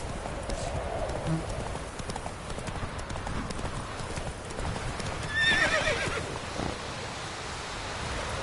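A horse gallops in Witcher 3, with steady thudding hoofbeats beneath ambient game sound and a brief whinny partway through, loud and close throughout.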